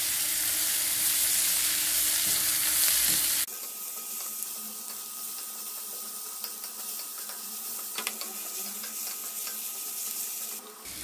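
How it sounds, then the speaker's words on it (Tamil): Carrots, beans and capsicum sauté in a pan for Schezwan veg noodles, a bright hiss of sizzling that drops off abruptly into a quieter background with light scraping and clinks. "இதெல்லாம் சேர்ந்து நல்லா வதக்கிக்கலாம்."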